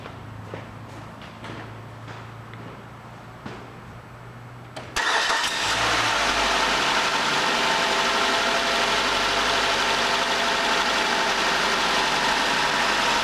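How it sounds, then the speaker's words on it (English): A Nissan Altima's engine cranks and starts after some quiet clicks and handling noises, then settles into a loud, steady idle that runs on continuously during an EGR valve test. "I'm going to start the engine"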